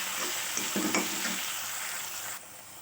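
Onions with salt and two finely chopped green chillies fry in a pan, a steady close sizzle with a few stirring scrapes, easing quieter near the end.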